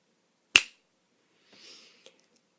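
A single sharp finger snap imitating Thanos's snap, crisp and close, followed by a faint rustle and a tiny click in otherwise quiet surroundings.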